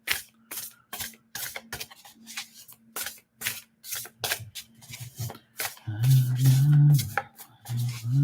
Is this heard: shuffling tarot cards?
yes